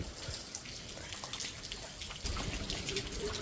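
Light rain patters steadily with soft drips and trickles, fairly quiet and continuous throughout.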